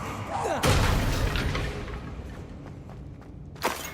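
Confringo explosive spell going off in Hogwarts Legacy, a booming blast with a long rumbling tail over game ambience, followed by a sharper burst near the end.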